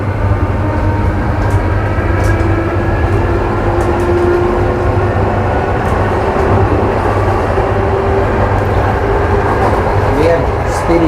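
An old Soviet-style electric commuter train in Bulgaria rumbles steadily from inside the car, with continuous low motor hum and track noise as it speeds up, loud throughout.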